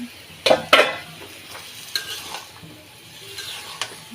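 Bottle gourd pieces go into a simmering fish curry gravy and a spoon stirs them. Several sharp scraping clatters of utensil on pot stand out over a soft background sizzle, and no one speaks.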